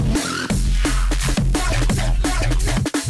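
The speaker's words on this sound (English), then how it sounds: "it sounds like a sort of percussive synth hit or something" Punchy percussive synth hits pulse in a driving electronic drum and bass groove, with heavy sub-bass and repeated sharp transients, loud and continuous with no voices.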